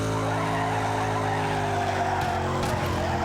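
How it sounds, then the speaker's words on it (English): Racing car engine held at top speed in the video game Need for Speed Carbon, a steady loud harmonic drone with a tire squeal or skid sound running throughout. "Apologies for the engine noises, I'm just running at top speed at the moment."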